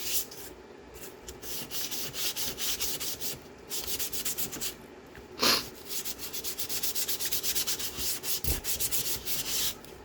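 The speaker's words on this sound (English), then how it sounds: "So I'm going to run my sandpaper over these as well." Sandpaper rubbed over glossy flashcards being prepared for decoupage, quick rhythmic scratchy strokes close by and fairly quiet, with a brief louder scrape partway through.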